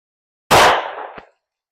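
A single sharp, loud pistol shot from a Glock 30 Gen 3 firing a .45 ACP 220-grain +P jacketed hollow point out of its 3.78-inch barrel, ringing off quickly with a faint click just after.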